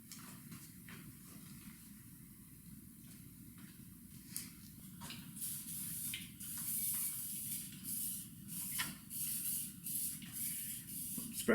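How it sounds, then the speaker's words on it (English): Silicone spray hissing from an aerosol can onto engine cylinder walls and lifter bores, short bursts growing longer and louder over a low background rumble. "Spraying some silicone, just good stuff, on the cylinder walls and in the lifter bores"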